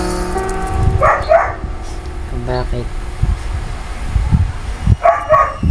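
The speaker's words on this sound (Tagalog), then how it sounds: "Oh my god, ang ingay ng aso!" Dog barking in the horror video game Granny, a few short yelps in quick bursts under steady game ambience while a person talks over it.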